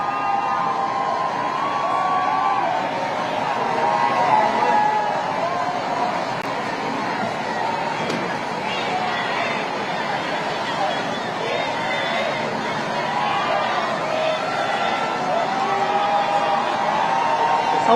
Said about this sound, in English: You can hear the crowds cheering in the background.